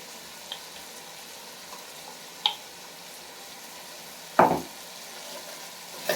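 Tomato, onion and ginger paste cooks in a pan for an intestine gravy, giving a low, continuous frying sizzle with a few scattered soft pops and one louder stir or clack near the end.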